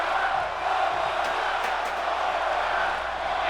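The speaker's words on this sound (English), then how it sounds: "And the crowd chanting one more time." Wrestling arena crowd at a live N.A.W.A. main event, a dense, steady roar of many voices chanting and cheering throughout, loud and continuous with no single voice standing out.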